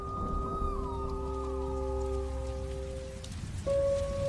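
Steady heavy downpour patters in the background at night beneath sustained eerie tonal sounds that glide and hold, then a brighter tone near the end.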